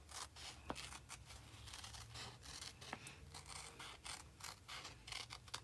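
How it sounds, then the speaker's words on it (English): Small scissors cut fabric for a quilt appliqué, with repeated soft snipping and rustling close by, quiet and irregular in rhythm with no talking. "I do want to use my little scissors, just because she has a lot of curves to her hair"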